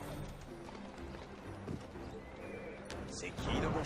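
A horse neighs amid a continuous rumble of hooves and carriage noise in the Assassin's Creed Syndicate video game, the clatter steady throughout and a louder burst near the end.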